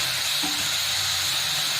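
Ginger garlic paste fries in a pan with a continuous, even hiss of sizzling oil and a faint low rumble underneath, steady from start to finish.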